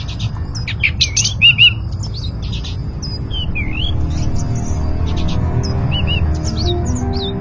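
Small bird chirping in short bright tweets and whistled calls, scattered irregularly across the clip over a low steady background rumble, with no talk.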